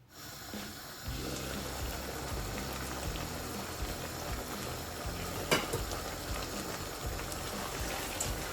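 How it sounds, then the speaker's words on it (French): A pot of ogbono (wild mango) soup boils with smoked-fish soaking water. It gives off a soft, steady bubbling hiss throughout, with a single light clink partway through. "je vais laisser bouillir pendant 1 à 2 minutes avant de rajouter après le gombo"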